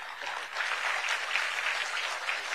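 Steady applause from a crowd, dense and sustained clapping throughout without a break.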